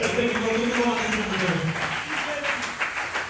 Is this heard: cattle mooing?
no